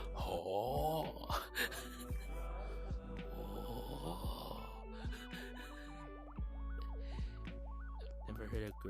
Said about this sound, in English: Never heard a girl snore so loud.